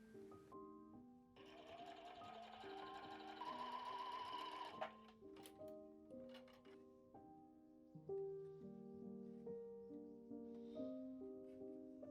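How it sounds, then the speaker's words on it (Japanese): A sewing machine stitches along the edge of quilt batting for a small tote bag, running in a steady whirring stretch with a few short starts and stops, fairly quiet and close, alongside soft background music and no speech. "キルト綿の端を縫いますよ。"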